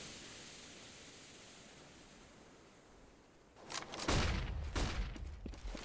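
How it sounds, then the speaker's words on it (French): Gunfire in a Counter-Strike match: after several seconds of quiet hiss, a burst of sharp, cracking shots rings out, repeated several times up close. "Les premiers tirs qui vont être échangés, malheureusement personne ne prendra de dégâts."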